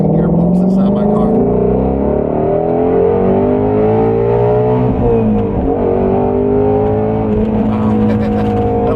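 A Shelby GT350R Mustang accelerates hard in second gear, its loud engine note climbing steadily in pitch, dipping briefly midway, then rising again close to the microphone.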